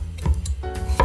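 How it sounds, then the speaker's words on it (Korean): A knife cuts through a large potato on a cutting board in about four quick, thudding chops, each a close, crisp knock against the board. "큰 감자를 그냥 삶아야 되는데 이렇게 잘라서"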